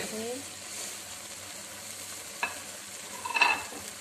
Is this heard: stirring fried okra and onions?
yes